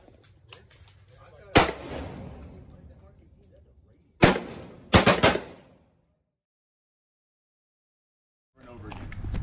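A carbine fires on an outdoor shooting range in a couple of sharp, loud bursts of rapid shots with ringing echo, then a stretch of silence before faint noise returns.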